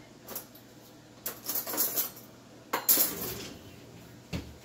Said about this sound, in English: let me real quick grab 2 teaspoons.